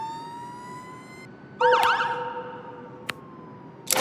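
An emergency vehicle siren sounds in the rescue simulation game Global Rescue, a steady wailing tone followed by a louder warbling sweep, with brief clicks near the end and no talking.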